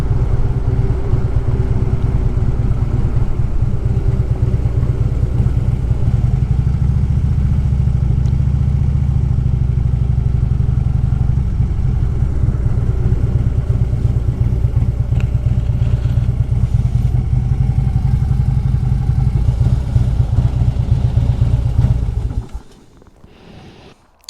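A Harley-Davidson motorcycle rumbles steadily and loudly across the Skye Bridge, its engine drone continuous with wind noise before cutting off abruptly near the end.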